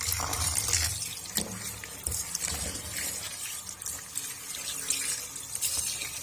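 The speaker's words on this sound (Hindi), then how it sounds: "ऐसे अच्छे से वॉश कर लिए" Hands swish and splash chopped bathua greens around in a basin of water, irregular sloshing and dripping sounds, close up with no voices.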